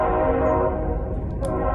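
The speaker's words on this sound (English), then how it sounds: "we'll wait till the train passes." A train rumbles past outside, a steady loud low roar with rail noise filling the whole stretch, continuous and close enough to drown out everything else.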